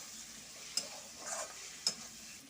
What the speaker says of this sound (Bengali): এতে দিয়ে দেব চিংড়ি মাছগুলো। দিয়ে ভালো করে কষাবো।